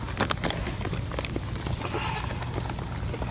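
Goats bleat a few times at a zoo amid a busy, noisy outdoor background of shuffling and scattered clatter.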